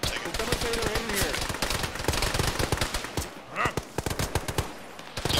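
An M60 machine gun fires in the military video game Arma, with fast, loud bursts of automatic gunfire hammering almost continuously, briefly pausing before resuming at full force.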